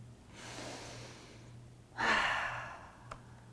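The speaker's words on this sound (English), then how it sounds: "Will you take a deep breath with me?" A slow, deep breath taken during a kids' yoga lesson: a long soft inhale followed by a louder, fuller breathy exhale, close and alone with a faint steady hum underneath.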